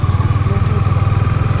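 A motorcycle engine idles close by on the start of a road trip from Delhi toward Manali and Ladakh, a loud steady low throb with a rapid regular pulse and no talk over it.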